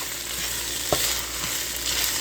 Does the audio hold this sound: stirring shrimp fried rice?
yes